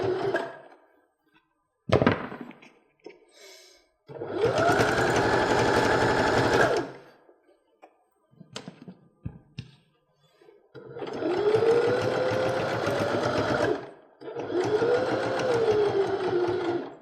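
A sewing machine stitches quilt binding in three sustained runs of rapid, humming needle clatter, close and loud, separated by quieter pauses with small clicks and handling noises.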